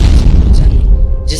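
A big explosion sound effect, a deep rumbling boom that fills the low end for over a second, loud and alone with no voices.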